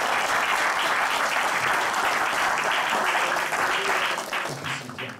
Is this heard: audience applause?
yes